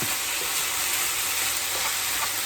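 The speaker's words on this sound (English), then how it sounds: "Give it a stir and see where we're at" Gluten-free breakfast fried rice with eggs sizzles steadily in a hot pan while it is stirred, a constant close frying hiss with faint scraping and no talk.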